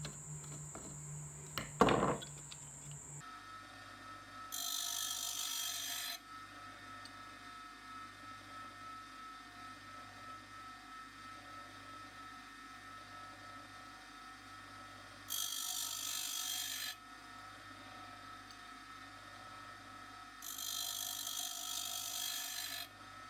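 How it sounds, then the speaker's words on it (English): Bottom of a screw for a Stanley Bailey No. 4 hand plane handle being trimmed, heard as three rasping, filing bursts of steady scraping, each lasting a couple of seconds, separated by quieter stretches with a low background hum. "what you have to do is trim a bit off the bottom of the screw."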